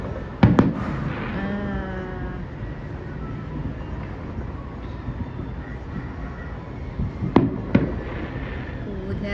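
Distant Fourth of July fireworks seen from a 19th-floor vantage, with a pair of sharp booming bursts at the start and another pair near the end over a constant low rumble of background noise and faint voices.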